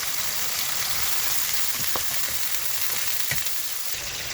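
Orata sea fish frying with onion paste in a pan, giving a dense, continuous sizzle with a few faint ticks and light stirring knocks, close and steady throughout.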